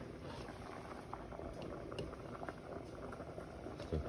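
Chili beans boiling in a covered pot on a stove, a soft continuous bubbling and popping that stays low and even throughout.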